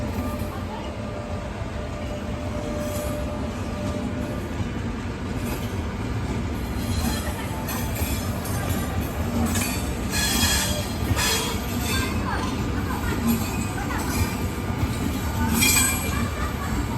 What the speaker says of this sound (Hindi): और ये है तेजस लखनऊ न्यू दिल्ली एक्सप्रेस